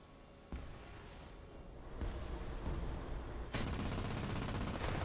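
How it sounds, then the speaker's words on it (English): Gunfire and artillery in the tank combat video game War Thunder, heard as a dense, continuous rumble of distant shots and blasts that grows louder in steps, with no speech. "There's artillery fire being dropped, so I thought, I need to get out of here."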